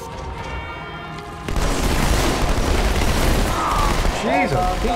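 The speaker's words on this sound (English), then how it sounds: "Jesus, that's a grenade!" A grenade explodes in Halo 2 on Cairo Station, a heavy boom rolling into dense battle noise and gunfire, with voices shouting over it.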